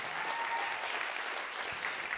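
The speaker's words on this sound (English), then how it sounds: "You should clap your hands real big. Even stronger. Come on, clap." A church congregation claps hands together, a dense, steady wash of applause that holds evenly at a moderate level throughout with no talk over it.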